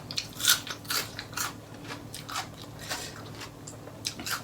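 Raw garlic is crunched and chewed alongside a homestyle Thai green papaya salad, with close, crisp bites followed by soft, repeated chewing and no talk.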